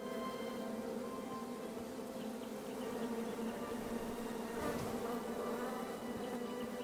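Bees buzzing in the King's Quest video game, a continuous dense insect drone at a low, steady level with no talk.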